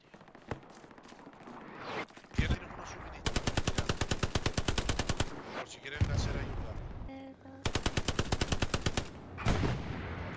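Automatic weapons fire in the World War II shooter Hell Let Loose, long rapid bursts of machine-gun rattle separated by single loud shots and pauses, close and sharp, with some voices between.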